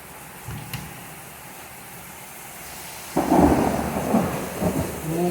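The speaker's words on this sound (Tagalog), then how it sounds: "Kumukulog pa, tumikidlat." A low rumble of thunder rolls in over steady heavy rain in Houston, Texas, the storm sound swelling and lingering.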